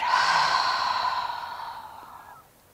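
A long, loud exhale through a wide-open mouth during a children's yoga session, a breathy sighing rush that starts strong and slowly fades out over a couple of seconds.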